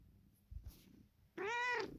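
A cat gives a single clear, close meow after some faint rustling, alone without any talking.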